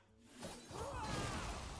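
A glassy shatter from the Shield Shatter card in Hearthstone bursts in after a brief quiet lead-in, then rings out into a bright, sustained sparkle for over a second.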